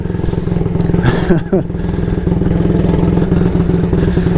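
A 1938 AJS Model 22 250cc motorcycle running on the road with a steady, loud, close thumping engine note and some clatter, while the rider talks over it.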